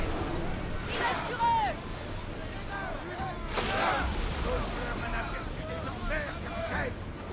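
Ship cannon volley in the Assassin's Creed Odyssey video game: a few dull booming shots spaced across the span over steady wind and sea noise.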